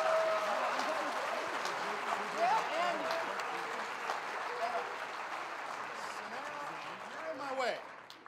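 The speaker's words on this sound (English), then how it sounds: "Let's give these folks a round of applause" A high school audience on a show-choir premiere night applauds warmly. Sustained clapping fills the space, with cheers and voices rising over it before it fades toward the end.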